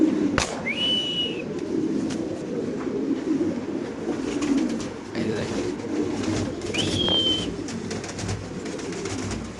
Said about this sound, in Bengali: এখানে আরেক জোড়া কবুতর আছে